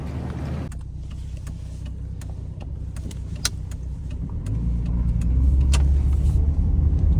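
Steady road rumble and engine drone of an old Ford Falcon, sat unused for 15 years and on worn tyres, cruising on an Australian highway; the noise swells louder toward the end, with no talk.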